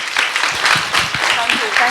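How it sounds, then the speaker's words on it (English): A film festival audience claps steadily, a dense close wash of applause, while a voice speaks briefly over it. "A round of applause."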